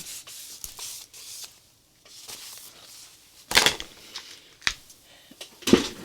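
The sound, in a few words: cleaning paint off a scraper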